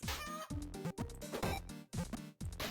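Chickens cluck in the video game Little Goody Two Shoes, with several loud, choppy clucks coming in quick succession and short gaps between them.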